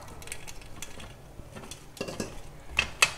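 Cauliflower being mixed into a spiced batter in a bowl, with soft wet stirring and scattered clinks of a utensil against the bowl, growing louder with a few sharper knocks toward the end.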